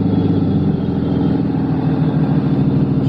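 Cummins diesel truck engine holding a steady high idle, a loud, continuous low rumble close by with no break or change in pitch and no talking over it.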